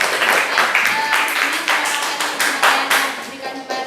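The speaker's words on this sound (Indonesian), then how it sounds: "Kasih aplaus dulu." Audience applause for a group presentation in a classroom teaching session, a dense burst of many hands clapping close by that carries on steadily for several seconds.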